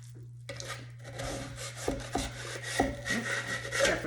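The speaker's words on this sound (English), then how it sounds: "I always scrape to the diagonal." Scraping a dry square pottery bat on the diagonal, close rough rubbing strokes repeating in an uneven rhythm over a steady low hum.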